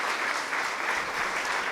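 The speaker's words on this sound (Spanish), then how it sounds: "un aplauso para Carlos Mario Aguirre, para recibirlo con" A hall audience in Medellín gives a warm, even burst of applause, many hands clapping densely and close for a couple of seconds without pause.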